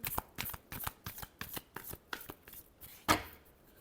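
Tarot cards are shuffled in a quick series of close riffling bursts at a steady rhythm, finishing with one louder final riffle.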